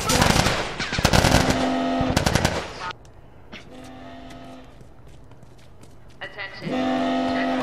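Rapid bursts of gunfire from Firefly shooters in The Last of Us crackle loudly and close, mixed with tense music and voices, then fade before firing picks up again.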